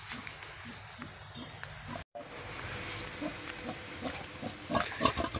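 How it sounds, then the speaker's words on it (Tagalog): Piglets born this month on a Philippine pig farm grunt in short bursts from a pen, with steady background noise and livestock rustle, growing busier and louder toward the end. "ang aking mga nganak ngayong buwan na baboy"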